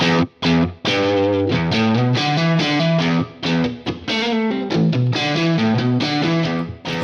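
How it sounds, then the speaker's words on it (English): Distorted electric guitar chords played through a Softube Celestion Speaker Shaper plugin ring out with a roomy reverb tail, strummed in a steady rhythm with brief pauses between phrases. "on the right hand side of the plugin, we've got an amazing room reverb"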